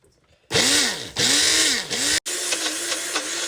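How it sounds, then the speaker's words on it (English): Motorized kitchen blender whirring loud and close as it blends a thick cream cheese mixture, running in three surging bursts that bog down and cut out briefly before a steadier straining run. "This blender sucks."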